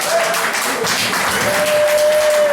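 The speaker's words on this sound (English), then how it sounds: "Give him a big round of applause." An audience applauds after a speech honouring Marcus Garvey, with steady dense clapping throughout and a faint tone running beneath it.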